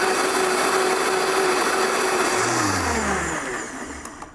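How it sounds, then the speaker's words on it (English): A kitchen blender purees celery, ginger, fish scraps, lime juice, ají amarillo and red onion with a loud, whirring motor roar that winds down in pitch as it stops. "We turn the blender on, we give it a quick zap."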